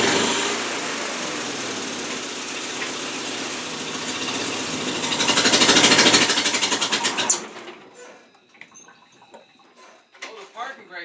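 A Mazda project car's engine starts and runs, a loud broadband roar that swells, peaks and then cuts off abruptly, followed by quieter noises and voices.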